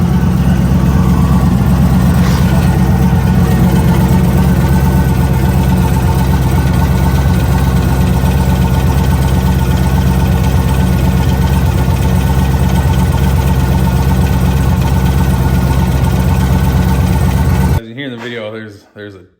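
Steady engine idle running close and loud with a low, even drone and faint rattling texture, continuing throughout before cutting off abruptly near the end; no speech is clear over it.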